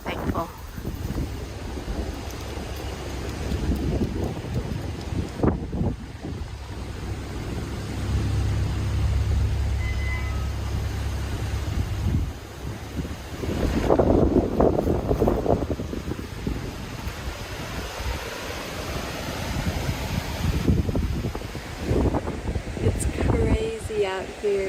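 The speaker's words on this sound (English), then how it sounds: "Out here, it's crazy windy." Strong wind at a campsite, rushing and roaring steadily with gusts that swell and buffet close to the microphone, a deep low rumble underneath for most of the stretch.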